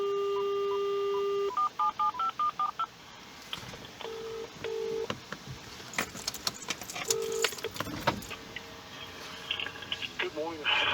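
Phone dialing a direct dial number, with a dial tone followed by a series of short DTMF beeps in separate bursts, close and clear, with light handling noise and a ringback pattern near the end.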